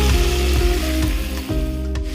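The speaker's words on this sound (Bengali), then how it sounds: "চিকেনটা আমি হালকা গোল্ডেন ফ্রাই করে নেব।" Chicken marinated in salt and brown sugar sizzles loudly as it shallow-fries in a pan, a steady close hiss with a few periodic thumps from stirring and no talk.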